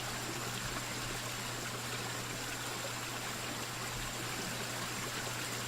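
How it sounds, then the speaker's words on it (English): Steady, continuous rush of a river flowing through the outdoor world of the video game BugOut, an even broadband wash of water with a faint low hum beneath, no talk. "But there is a river just down there."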